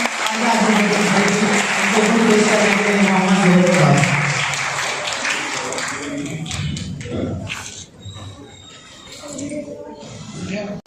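Audience applause at a school award ceremony for Urdu medium toppers swells loudly for several seconds, then thins into scattered claps and fades, with a speaker's voice over the room.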